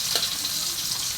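Garlic and onions fry in a pan with a continuous close, crackling sizzle and no voices over it.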